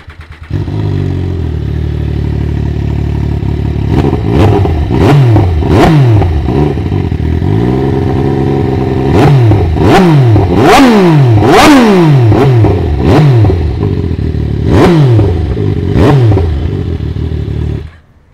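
A 2013 MV Agusta Brutale 800 motorcycle engine idles steadily, then is blipped through a series of sharp revs that climb and fall, loud and close, with no talking.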